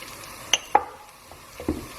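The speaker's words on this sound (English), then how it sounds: "cook these dry spices for about 2 minutes" Dry ground spices, turmeric, chili powder and coriander, stirred and sizzling in a pan for a creamy chicken curry, with a few soft scrapes and light taps of a spoon over a quiet fry.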